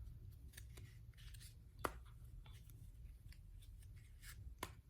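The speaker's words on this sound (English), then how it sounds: "One that's very common is a swivel cut into a swing cut into a quick close like this." Playing cards are handled in a swivel cut, swing cut and quick close, making faint soft rustles and a few sharp little snaps as packets close together, all close and quiet.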